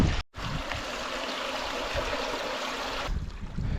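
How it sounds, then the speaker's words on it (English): Small mountain stream trickling through overgrowth near its source, feeding a waterfall; a steady close rush of running water with no voices, cut by a brief drop at the start. "The stream's getting progressively smaller and smaller. Look at this now, it's just like a trickle."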